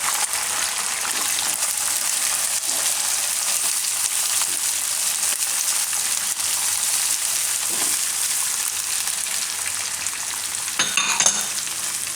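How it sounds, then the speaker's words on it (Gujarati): Green and yellow capsicum and other vegetables fry in a pan for poha, making a constant, dense sizzle with light stirring. A brief clatter comes near the end and no one speaks. "કેપ્સિકમ લીલું"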